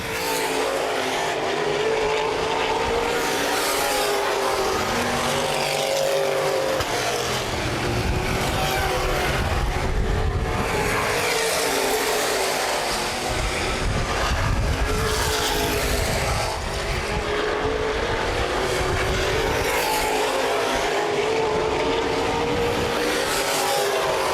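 Open wheel modified race cars roar around a half-mile speedway in a feature race, engines droning loudly and continuously as cars pass, with surges and rising whines as the pack sweeps by.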